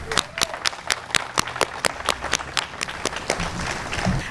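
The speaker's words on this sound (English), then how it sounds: "we all deserve a round of applause" Crowd applause at a Juneteenth community celebration in Bloomfield: a steady run of sharp hand claps, fairly close and loud, keeps going for about four seconds with a background murmur of voices underneath.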